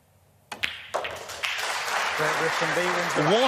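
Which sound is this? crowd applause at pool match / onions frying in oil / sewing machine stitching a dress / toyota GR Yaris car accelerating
crowd applause at pool match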